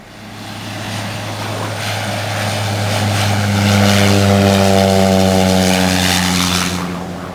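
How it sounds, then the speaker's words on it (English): A propeller plane coming in to land near Cairns or Dunk Island, its engine drone rising steadily and holding loud and close throughout, with a strong low hum and layered tones, no talk. "Oh, that plane looks like it's coming in."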